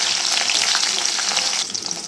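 Vegetables lightly frying in a hot wok for Bengali home-style shukto, a steady close sizzle with faint stirring, easing slightly toward the end.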